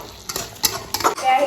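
Meat stirred and frying in a new wok (kerahi), with several bursts of spatula scraping and clinking against the metal over a steady close sizzle.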